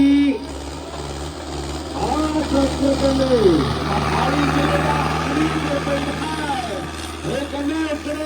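A tractor's steady engine drone runs throughout with a low throb as it pulls a trolley in a trolley-pulling contest, while someone talks over it and other voices rise and fall nearby.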